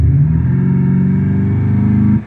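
BMW G11 7 Series fitted with a Thor exhaust, engine held steady around 2500 rpm: a loud, close, sustained droning rev with a deep rumbling tone that holds evenly for about two seconds, then drops off abruptly.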